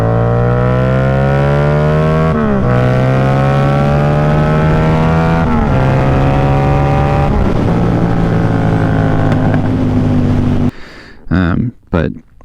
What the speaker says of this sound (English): The next thing that I did was the Toce full exhaust system.